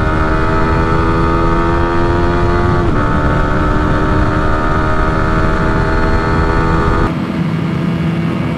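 A Yamaha R15 V4 and a KTM RC200 scream side by side in a drag and top-end race, their engines held at a loud, buzzing high pitch against the rev limiter, with abrupt shifts in tone partway through and near the end.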